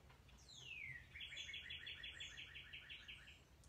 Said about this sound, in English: Hear those birds this morning?